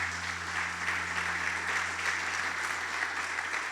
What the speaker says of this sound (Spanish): ¿No le das un aplauso al Señor por eso?